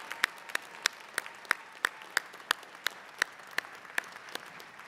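Applause for an award winner at a New York City police academy graduation, thinning to a few loud, evenly spaced claps close by, one every third of a second or so, without talk.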